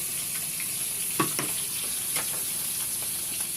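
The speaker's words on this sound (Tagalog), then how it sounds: "Habang piniprito ko po yung bisugo" Steady sizzling of bisugo fish frying in hot oil, with occasional pops and crackles and a few clinks of a utensil, no voices.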